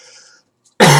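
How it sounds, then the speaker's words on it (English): A single sharp, loud cough from a man with a sore throat, coming after a brief silence at close range. "I've had a sore throat for like the last couple days, so sorry if I cough a lot"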